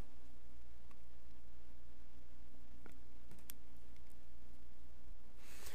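A computer mouse gives a few faint, sharp clicks, spaced apart over a steady low background hiss at a desk. There is no talking.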